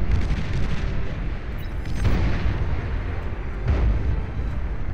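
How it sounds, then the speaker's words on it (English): Many units in the strategy game Beyond All Reason fire at a Thor during a huge 8v8 deathmatch, making a dense, loud, continuous roar of artillery and explosions with heavier booms swelling through it. "I want another shot of this firing away at the Thor."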